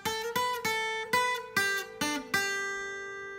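A short guitar melody from the SpongeBob theme, seven plucked notes at an even pace, each ringing clearly, the last one left to sustain and fade.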